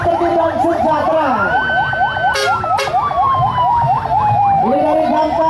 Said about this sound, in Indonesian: Ini dari Damkar Kabupaten Banyumas yang merupakan Satuan Polisi Pamung Praja dari Kabupaten Banyumas dipimpin oleh Bapak Sugeng Amin SHMH.